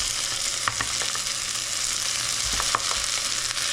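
Onions frying in butter on high heat, a loud continuous close-up sizzle with crackling and occasional soft stirring clicks, no voices.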